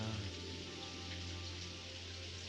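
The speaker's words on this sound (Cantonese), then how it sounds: "大雨不如入翻嚟啦" Steady, dense hiss of heavy rain pouring continuously, close and fairly loud, with no voices.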